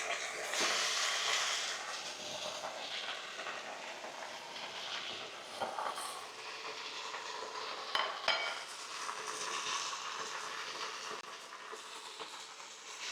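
Leafy greens sizzle and fry steadily in a small skillet, a soft continuous hiss with occasional scrapes and a couple of sharp utensil taps, no talking.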